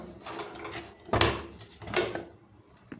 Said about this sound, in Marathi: आता आपण हे कुकरचं झाकण उघडून बघू